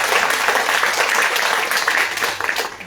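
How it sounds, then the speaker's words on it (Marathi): An audience bursts into loud, dense applause at a stage program, sustained clapping throughout with no break. "त्यासाठी जोरदार एकदा टाळ्या झाल्या पाहिजे."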